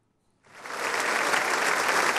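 US lawmakers in Congress break into long applause after the Pope's speech, a sudden burst of clapping that rises from silence and holds loud and dense throughout.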